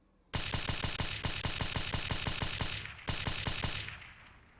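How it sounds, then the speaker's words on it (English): Vehicle-mounted machine gun in Operation Flashpoint fires loud, rapid evenly spaced bursts, a long string of shots, a brief pause, then a shorter burst fading out. "the machine gunners on vehicle."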